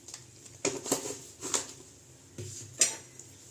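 A ladle stirs boiled masoor lentils in a metal pot, giving several distinct clinks and scrapes against the sides in an uneven rhythm, fairly close and quiet, with no voices.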